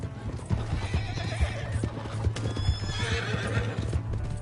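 A horse gallops in the video game Red Dead Redemption, its rapid clip-clop hoofbeats close and continuous, with a whinny and a low steady hum beneath.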